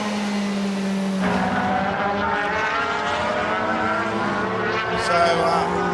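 DTM touring race cars lapping the Valencia Ricardo Tormo circuit, engines droning and shifting pitch as cars pass nearby, a continuous loud roar with layered harmonic whine throughout.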